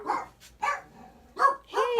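A young schnauzer mix puppy gives four sharp, close barks in an uneven rhythm, each separated by short pauses, with no talking over them.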